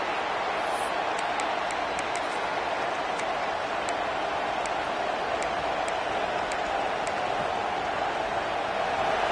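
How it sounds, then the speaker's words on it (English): Stadium crowd roar from a College Football 26 video game: a steady, broad wash of cheering noise with faint scattered high whistles, constant in level throughout. "It's early, but this crowd is fired up. Listen to this noise here."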